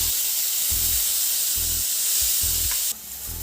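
Bread chilli masala sizzles and fries in a pan just after vinegar is added, with a steady hiss punctuated by regular rhythmic scraping strokes of stirring, close and clear.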